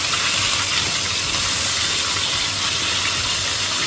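Ginger garlic paste frying in hot oil with cardamom, cinnamon and bay leaves for a duck curry, a loud, steady broadband sizzle and hiss that continues without a break and without talk.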